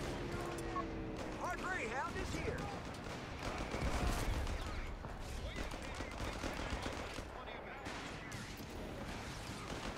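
Machine gun fire in the strategy game Company of Heroes 3, rattling bursts and scattered shots amid battle noise, mixed under a voice talking excitedly.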